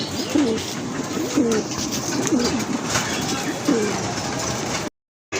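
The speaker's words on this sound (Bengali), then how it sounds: "আরেক জোড়া কবুতর মাসাল্লাহ খুবই সুন্দর" Several low pigeon coos repeat at a steady rhythm over a continuous rumbling background, ending in a brief silence.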